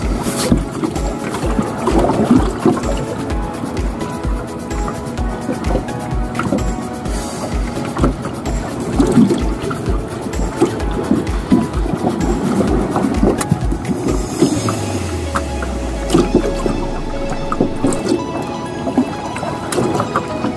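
A fishing boat on the California Delta runs across choppy open water, its engine droning steadily as hull slaps and wind rush come through, with a low tone sliding down near the end.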